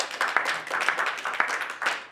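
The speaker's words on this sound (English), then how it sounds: "if we can give you real and virtual round of applause" Audience applause at the close of a talk on the history of distance, a steady dense patter of many hands clapping, moderately loud and continuous with no voices over it.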